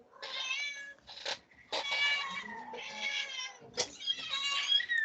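A baby cat meows again and again at close range, its cries drawn out and wavering, some rising into strained yowls, with short gaps between them and no talking.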